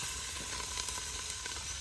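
Green chilies sizzle steadily in hot oil for Telangana-style biryani, a close, dense frying hiss that runs without a break and with no voice over it.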